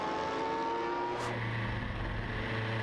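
A sports-prototype race car such as a 1986 Spice or Dauer 962 at dusk at Silverstone, heard as a steady engine drone that shifts pitch as the car passes, moderately distant, with no voices over it.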